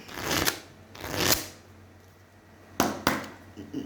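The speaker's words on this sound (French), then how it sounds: "Vous voyez combien de fois j'ai touillé les cartes?" Tarot cards are shuffled close by in a few short, papery riffling bursts with pauses between them, fairly quiet against a calm room.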